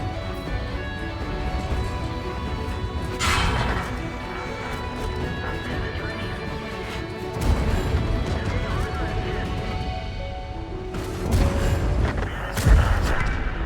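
Booming cannon shots from the Prototipo 6 tank in World of Tanks, several heavy blasts spaced through the clip over a steady rumbling engine bed, with a voice talking throughout.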